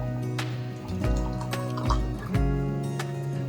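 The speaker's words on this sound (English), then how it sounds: "Let's go ahead and start filling our jars." Homemade grape jelly made from table grapes pours and drips into jars, a close liquid trickle with soft glops and small clinks in a kitchen.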